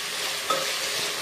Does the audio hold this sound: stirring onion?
yes